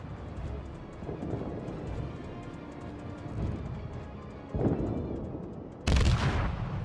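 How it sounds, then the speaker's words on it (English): Destroyer deck guns fire in the naval battle game Kagero, a dense rumbling barrage of shots with heavier bursts near the end, loud and continuous with no voices. "I use my guns, setting him on fire, and launch my first torpedo spread right on the marker"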